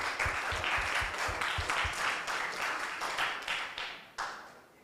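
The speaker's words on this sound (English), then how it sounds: "let's give applause to these two teams." An audience at an English debating competition final claps after two teams present, with a dense burst of applause that holds steady and then tapers off, with some sharp low thumps near the recorder early on.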